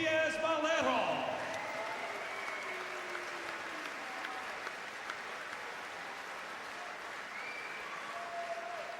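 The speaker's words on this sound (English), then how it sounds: "how about a round of applause for Juan Carlos Diaz Melero?" Boxing crowd at a European lightweight title fight applauding, a long steady roar of clapping from a large arena audience, with a brief announcer-like voice or tone at the start before the applause carries on alone.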